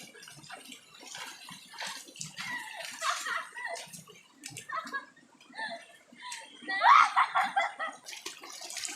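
Goats being bathed in a cold river on a hillside farm, with irregular water splashing and sloshing throughout and a louder burst near the end, under light talk and occasional giggles.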